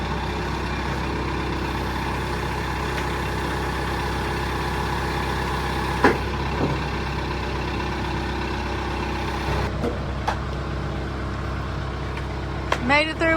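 A tractor engine idles and works steadily near a sawmill while long boards are pulled off, a low continuous rumble with occasional clunks and knocks, and a voice speaks briefly over it.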